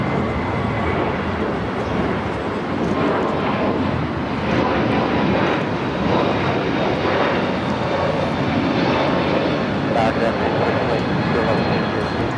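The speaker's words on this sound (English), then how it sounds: "This is United Airlines 2487 taking off to Chicago on the A321neo" A United Airlines A321neo jet roars steadily through its takeoff roll at Los Angeles International, a loud, sustained broadband engine rumble with a faint whine, holding steady from start to finish, with faint voices beneath it.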